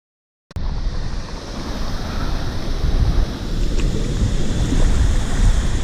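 Steady rushing water from a waterfall at Suối Mơ in Dai Loc, Da Nang, fills the scene, a continuous broadband wash, loud and close, with some wind buffeting the microphone.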